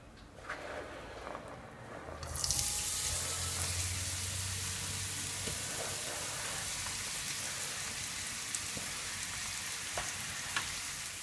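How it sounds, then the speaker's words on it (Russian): Onion frying in a generous amount of vegetable oil, a steady broadband sizzle that bursts in loud at about two seconds and continues evenly to the end, close and without talk. "и жарим лук до золотистого цвета"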